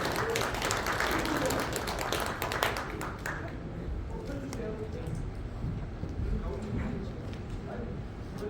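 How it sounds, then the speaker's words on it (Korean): Audience applause at a breakfast seminar of a global future forum, a dense burst of clapping that starts loud and gradually thins and fades, with a voice speaking over it in a hall. "박수 부탁드립니다"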